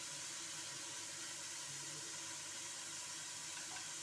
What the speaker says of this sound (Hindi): अब हम इसमें डालेंगे पाए और इसको अच्छी तरह भूनेंगे।